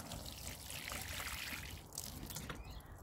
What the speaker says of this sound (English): I'm going to just give that one a little water, because it's got the cuttings that need to root